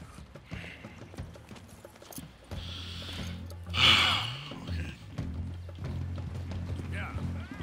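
Horse hooves clip-clop in Red Dead Redemption 2, a rhythmic trot over game ambience, with breathy sighs and a gasp mixed in.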